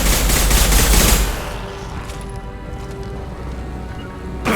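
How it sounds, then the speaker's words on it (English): Gunfire in the Mass Effect 2 video game, a loud dense burst of rapid shots in the first second, then a quieter stretch of battle ambience and faint distant pops before another sharp burst at the end. "Taking heavy fire"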